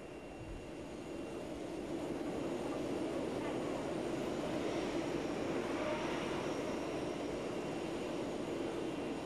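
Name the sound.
airplane engine at airport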